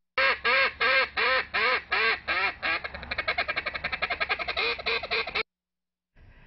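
Championship duck calling by a world champion caller from Vermilion Parish, Louisiana, imitating quacks: a series of loud, evenly spaced drawn-out quacks that speed up into a rapid staccato run of shorter quacks, then a brief pause.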